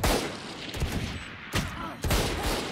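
Bursts of gunfire in a shooter video game, several sharp broadband shots and short volleys across a loud, busy game mix with no speech.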